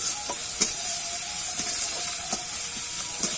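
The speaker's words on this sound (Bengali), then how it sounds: "যে আদা আর রসুনটা বাটা আছে সেটা কিন্তু দিয়ে দেব। দিয়ে কিন্তু ভালো করে আবার একটু নাড়াচাড়া করে" Ginger-garlic paste sizzles in hot oil in a pan for raw jackfruit chop, a steady close hiss broken by occasional sharp scrapes and taps of a spatula as it is stirred.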